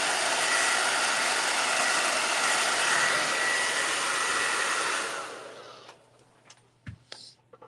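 A hair dryer blows with a loud steady whoosh for about five seconds, then winds down and stops, followed by a few small handling knocks.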